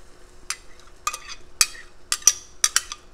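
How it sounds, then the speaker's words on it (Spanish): Sauce going into a pan of fried onion and chile, with a few sharp bursts of sizzling and clinks of a utensil against the pan over a quiet background. "Ahora vamos a agregar la salsa."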